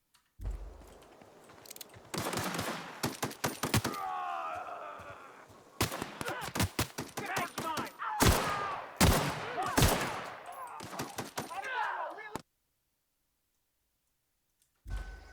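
Gunfire in The Outer Worlds video game, bursts of sharp shots and rapid fire in uneven volleys over about twelve seconds, loud and close, then abrupt silence.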